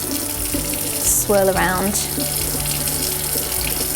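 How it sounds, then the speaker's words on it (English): A kitchen or studio sink tap runs while a paint brush is wetted under it, a close, steady rush of water with a brief louder splash and swirl in the middle and a few words spoken over it. "I just basically drop it in the sink and run the tap, wet the brush"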